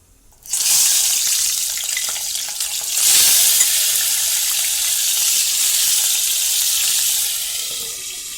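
Crabs fry in a hot pan for a spicy crab curry, giving a loud, steady hiss and sizzle that starts abruptly and carries on without break, with a brief swell partway through.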